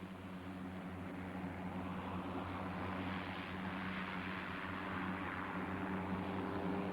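Propeller aircraft flying reverse and low passes at a 1999 agricultural aviation reunion air display, a steady droning engine roar with prominent low hum, holding constant and loud throughout with no talking.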